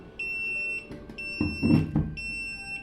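An HHD 12-egg automatic incubator's low-temperature alarm beeps in long, high-pitched tones, repeating three times with short gaps, close by, with some handling noise in between.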